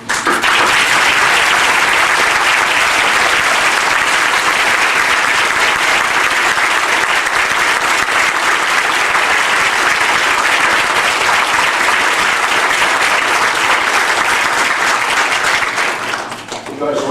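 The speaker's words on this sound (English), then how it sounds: "I'd like to request that all of you stand and receive our applause." A large graduation audience delivers sustained, loud applause for standing graduates, a dense, even wash of clapping that holds steady for many seconds before easing off at the end.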